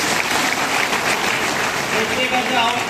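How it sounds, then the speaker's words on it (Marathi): An audience at a live stage event claps, a dense steady burst of applause filling the space at full loudness throughout, with some crowd voices mixed in. "त्यांच्यासाठी जोरदार टाळ्या वाजवायच्या"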